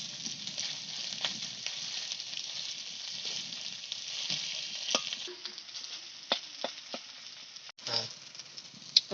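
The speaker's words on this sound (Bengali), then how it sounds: "আদা একটু ভেজে নেবো হালকাভাবে" Grated ginger frying lightly in oil for a vegetarian greens ghonto, a steady close sizzle broken by occasional spatula scrapes and taps, with a few louder knocks near the end.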